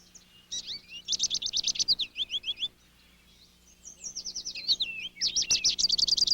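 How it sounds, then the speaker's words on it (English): Finches chirp and twitter at a Niger seed feeder in a backyard, bursts of rapid high trills and chatter from close by, pausing briefly before resuming. "Niger seed is savored by all the finches."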